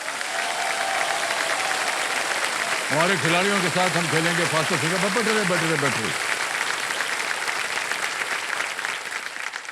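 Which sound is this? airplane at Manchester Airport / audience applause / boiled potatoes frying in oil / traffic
audience applause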